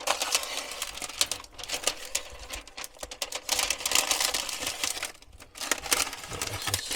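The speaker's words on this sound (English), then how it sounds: "Try and get this film off of here. Peel it off nice and slow." Protective film slowly peeled off an RV kitchen backsplash, giving a continuous crackly, ticking rasp with brief pauses, close and fairly loud, with no talking.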